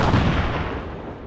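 A large explosive detonation in the military game ArmA 3, a deep, loud blast with rumbling low-end that fills the whole short moment.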